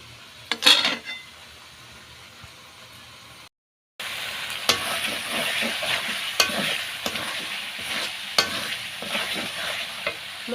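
Masala spices sizzling and being stirred in a hot pan for a fish curry, a steady loud fry hiss broken by sharp scrapes and clinks of the spoon against the metal, after a brief quieter patch and a moment of silence.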